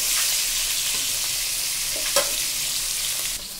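Pieces of stinging catfish frying in oil, with a close, steady sizzle and occasional stirring scrapes, and no voices.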